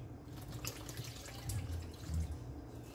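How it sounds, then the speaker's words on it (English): Grace coconut milk pours into a bowl of Jamaican coconut sweet bread mixture, a soft continuous liquid stream with faint drips and gurgles, close and steady without talk. "I'm gonna add my Grace coconut milk."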